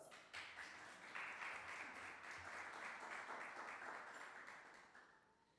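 Audience applause fills a Sunday feast gathering at a Hare Krishna temple, a dense, steady wash of many hands clapping that swells after a brief lull and fades slightly toward the end.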